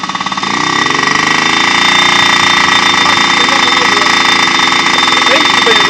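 A minibike engine held wide open, a loud sustained high-revving buzz that climbs in the first half second and then stays steady and close for several seconds.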